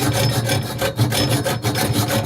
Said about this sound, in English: there's lots of sawing of pipes in this video